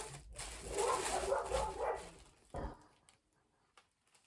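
Dogs bark in a muffled burst of a few barks, fairly quiet and somewhat distant, then fall silent.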